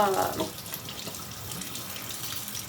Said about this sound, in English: So I'm gonna rinse all the chiles.